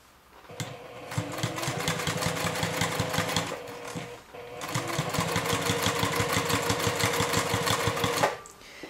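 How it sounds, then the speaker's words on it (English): Sewing machine stitching around a rectangular lining pocket opening with a narrow seam, rapid rhythmic whirring in two long bursts separated by a brief pause, close and steady. "I sew around the rectangle opening with probably a 1/8 of an inch seam allowance"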